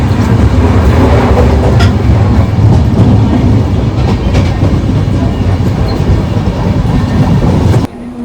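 A passenger train on the Kolkata to Jodhpur route runs on the rails near Bharatpur station in Rajasthan, giving a loud, steady rumble and clatter of wheels that holds for about eight seconds before dropping off sharply.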